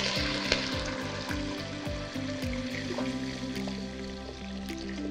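Broth poured over rice in a hot pot, heard as a soft, steady sizzle and bubbling pour with faint clinks, fairly quiet and without talking.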